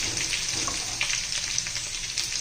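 Cumin and mustard seeds crackle and sizzle in hot oil, a steady frying hiss with small pops scattered throughout.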